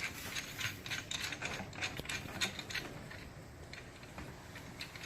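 A threaded part being turned onto a TOPOINT R3 recurve bow riser during assembly gives a run of quick, close ratcheting clicks in an uneven rhythm, with no talking.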